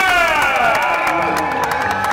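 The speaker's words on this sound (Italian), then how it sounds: "l'applauso per Tom Dumoulin" A crowd at a Giro d'Italia stage cheers and applauds loudly for the pink-jersey cyclist Tom Dumoulin, a dense, continuous roar of voices, whoops and clapping throughout.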